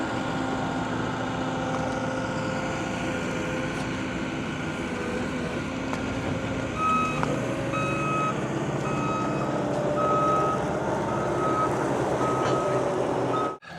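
Heavy machinery at work as an excavator loads a Cat 740 articulated dump truck over the side, a steady engine rumble throughout with repeated high reversing beeps sounding at regular intervals in the second half, loud and continuous.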